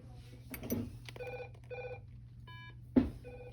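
A phone rings in short electronic trills, two or three bursts spaced apart, with a person briefly speaking between them.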